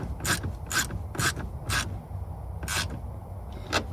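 A clamp fitted and tightened on a high flow intake for an LBZ Duramax engine, six sharp ratcheting clicks spaced irregularly, close and fairly loud, with no talk.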